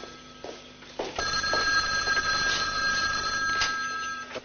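A telephone rings with a steady, repeated electronic trill in a quiet indoor scene, loud and close, with a few faint bumps and no talk.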